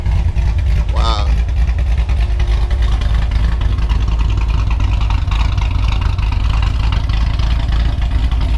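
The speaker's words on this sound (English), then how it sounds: "Got CJ's loud ass car on" A loud C5 Corvette, freshly out of storage with new hood vents fitted, idles with a deep, steady rumble close by, and a voice speaks over the engine.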